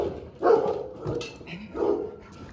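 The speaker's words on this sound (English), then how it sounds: "I didn't think there was going to be a dog." An indoor dog lets out two or three short barks close by, spaced apart, with a brief yip between them and quiet room sound around.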